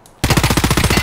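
Automatic gunfire in Escape from Tarkov erupts suddenly after a brief quiet moment, a loud rapid burst of shots in steady rhythm lasting about a second, close and punchy.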